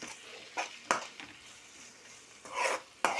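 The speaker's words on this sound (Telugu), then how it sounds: "మసాలా కూడా వేసాం కదా, తిప్పుకోవాలి జాగ్రత్తగా." Masala frying in a pan for a prawn and chicken curry is stirred with a utensil, giving several sharp scrapes and clinks against the pan over a quiet sizzle, with no talk.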